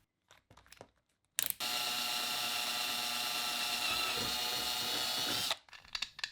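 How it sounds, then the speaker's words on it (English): A power drill bores holes in a plastic button box mount for a Logitech shifter, giving a close, steady, whining buzz for about four seconds, with brief quiet handling noises before and after. "A tip when drilling in plastic is to start with a smaller drill bit as a pilot hole"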